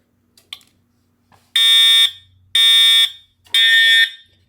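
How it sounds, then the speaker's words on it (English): A fire alarm horn with a metal diaphragm, left on its factory setting, blares three loud, evenly spaced half-second blasts after a few faint knocks, with quiet gaps between. "Very loud horn."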